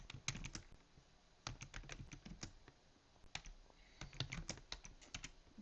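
Rapid bursts of keystrokes on a computer keyboard while entering a docker run command, quick clicky taps in uneven clusters with brief pauses, close and moderately quiet.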